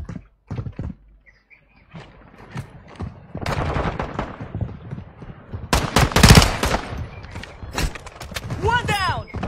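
Rapid gunfire from a fast-firing gun in an online shooter game, loud bursts of shots mixed with game effects and someone talking over them.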